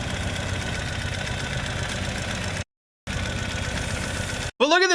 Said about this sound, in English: Ooh, that motor sounds way better.